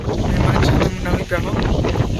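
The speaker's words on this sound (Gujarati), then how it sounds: "અટાણે પવન વધારે કઈ અવાજ ઓછો આવી ગયો" Strong wind buffets the microphone outdoors at the Madhavpur fair, a loud rumbling roar that lasts throughout. People's voices are partly masked beneath it.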